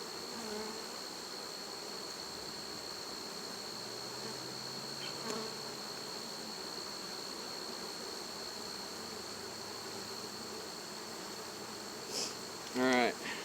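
Honey bees hum in a steady, close drone throughout a beehive inspection, with brief clicks and a short rustle near the end.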